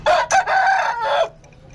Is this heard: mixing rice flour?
no